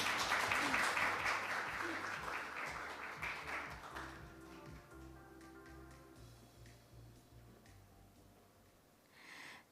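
An audience at a business forum applauds loudly after a speech, and the clapping gradually fades away under a low hum.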